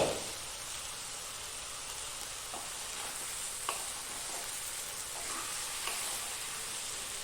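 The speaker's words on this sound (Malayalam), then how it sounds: "തക്കാളി നേരത്തെ മുട്ടയൊക്കെ ചെയ്ത പോലെ ഒന്ന് പൊള്ളിക്കിട്ടുകൊണ്ടു അതിൻ്റെ ഭാഗങ്ങളൊക്കെ ഒന്ന് പൊള്ളി വന്നിട്ടുണ്ട്" Tomatoes blistering in a pan, a steady, dense sizzle and crackle of frying that runs throughout, with a few soft stirring clicks and no voices.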